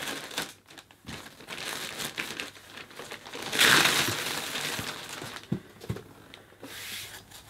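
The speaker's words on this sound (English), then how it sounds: "Then I'm going to have to open the bag with the scissors." Close crinkling and crackling of a plastic bag being handled and cut open with scissors while unboxing a Vorwerk Kobold VK200 vacuum cleaner, with a louder rustling burst midway and scattered clicks throughout.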